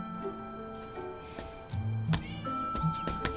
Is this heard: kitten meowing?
yes